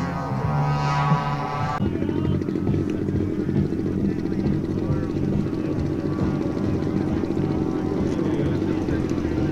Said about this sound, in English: on the takeoff roll now